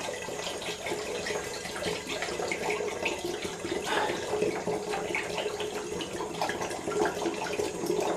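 Fruit juice for homemade wine pours steadily into a container, a continuous liquid splash and gurgle close by with no talking.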